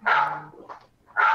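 A dog barks in short, loud bursts, two sharp barks a moment apart, close by and alone with no talking.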